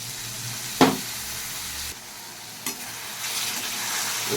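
A soaked chilli and turmeric powder paste with tomato sizzles in a pan, a low continuous frying hiss broken by a couple of sharp spatula knocks against the metal.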